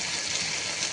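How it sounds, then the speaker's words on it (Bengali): Water poured into a pan of tuna fish curry, a steady broadband gush of liquid running close and continuous for the whole second with no voices. "পানি দিয়ে দিলাম"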